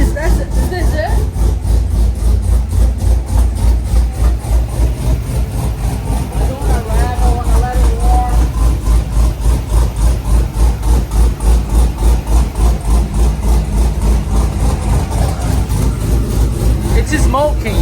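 Loud, lumpy idle of a Corvette with a swapped engine, a deep rhythmic rumble that pulses steadily and stays close throughout, with people talking over it at times.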